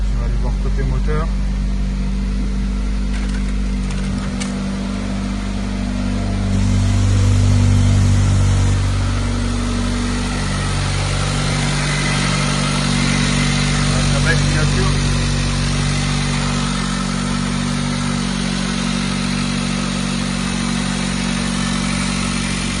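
A Mercedes-AMG GLA 45 compact SUV engine runs at a steady idle with a low rumble and a slight swell in the middle, heard close and continuous, and someone speaks over it.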